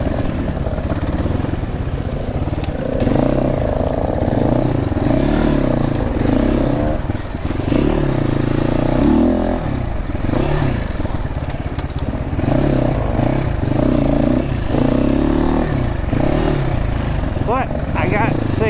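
A GPX FSE300r motorcycle engine drones steadily throughout the ride, a continuous low rumble with wind and road noise, with a rider talking over it most of the time.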